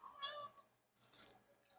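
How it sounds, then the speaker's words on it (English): A house cat gives two short meows close by, quiet and a moment apart, in a home kitchen late at night. "Oh yeah, this cat."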